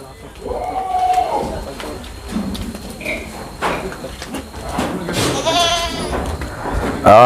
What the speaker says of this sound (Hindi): ये आसिफ भाई घाटकोपर वाले का बकरा है